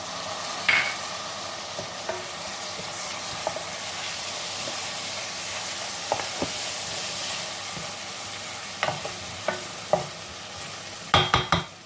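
Tomatoes frying in a pan of Sindhi-style seyal fish curry give a steady low sizzle with scattered stirring scrapes and clatters, and a louder burst of clinks near the end.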